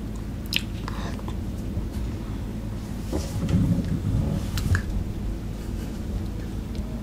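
A child bites and chews popping boba at close range, with soft wet squishing and small bursts over a steady low background, while people talk quietly nearby.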